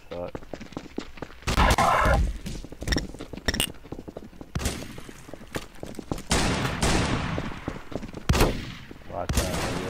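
Shotgun fire in Garry's Mod during mafia roleplay, loud booming blasts at irregular intervals mixed with other shooting, with people talking throughout.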